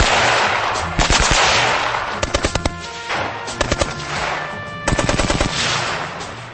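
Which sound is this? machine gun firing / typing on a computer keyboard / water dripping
machine gun firing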